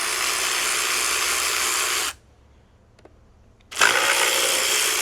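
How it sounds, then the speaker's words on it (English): A power tool whirs loudly and steadily as it backs out 13 mm oil pan bolts on a 4.8 engine, stopping for about a second and a half of near silence before spinning up again. "Obviously power tools makes this"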